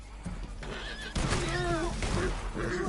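A horse in the video game Red Dead Online whinnies loudly over clip-clopping hooves and ongoing game ambience, with a voice briefly audible in the mix.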